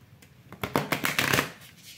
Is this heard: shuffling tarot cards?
yes